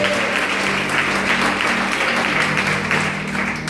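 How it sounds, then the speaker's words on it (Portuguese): A church congregation claps steadily and enthusiastically in a large reverberant room, with a low sustained tone underneath. "A igreja aplaude e glorifica Jesus."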